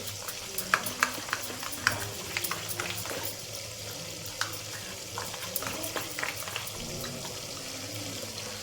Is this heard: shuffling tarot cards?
no